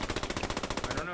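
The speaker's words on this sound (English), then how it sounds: "There's gunfire everywhere." Rapid automatic gunfire in the World War II shooter Squad 44, a fast, steady stream of close, loud shots that stops abruptly.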